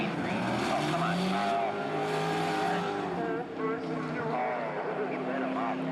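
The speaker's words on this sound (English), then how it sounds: "The 2003 Mitsubishi Lancer of Paul Ellertson. One lap" A 2003 Mitsubishi Lancer races through a lap: a strained engine roars with shifting pitch and some tire squeal, heard under ongoing voices talking.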